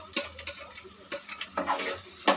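Fried boiled eggs being fried and stirred in chili masala, with a soft sizzle beneath several distinct spoon scrapes and stirs close to the pan.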